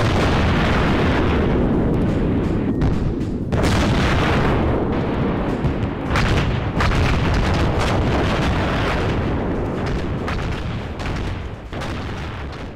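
Explosions from demolition charges in the military shooter Arma 3: a loud, sustained rumbling roar of blasts with repeated booming bursts, filling the whole stretch and tapering slightly near the end, with no talk.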